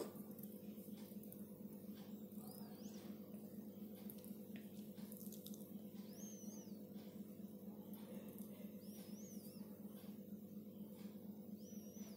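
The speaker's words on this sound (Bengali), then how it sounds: "ডালটাকে দুবার আমি ধুয়ে নেবো" Tap water runs steadily into a kitchen sink while lentils are washed, a continuous close splashing flow with faint clinks over it and no talking.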